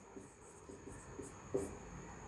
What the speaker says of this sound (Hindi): मैं यहाँ थोड़े से लिखता हूँ